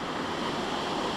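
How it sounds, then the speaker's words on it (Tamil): Water from Thoovanam falls in Chinnar Wildlife Sanctuary pours down in a steady, broad roar, close and continuous without a break, with no voices over it. "தண்ணி கொட்டுது"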